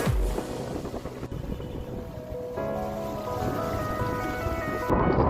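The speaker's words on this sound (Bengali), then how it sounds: "এখানে অনেক বাতাস, তার সাথে অনেক বৃষ্টি হচ্ছে এখানে" Heavy rain and strong wind sweep across the riverbank at Mainot Ghat, known as Mini Cox's Bazar, a dense continuous roar of downpour and gusts close to the microphone, with no voices.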